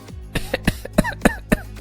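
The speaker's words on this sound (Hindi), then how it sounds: "मुझे तो इतनी ज्यादा खांसी हो रही है" A run of short, harsh coughs, about six bursts in under two seconds, close and fairly loud with brief gasps between them.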